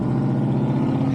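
A forged 5.7 Hemi V8 in an R/T car runs steadily just after startup, a loud, close, even low rumble with no talking.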